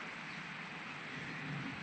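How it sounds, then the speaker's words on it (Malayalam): Summer rain falls during hot weather in Palakkad as a faint, steady, even hiss with no voices. "നല്ല മഴ പെയ്യുന്നുണ്ട്"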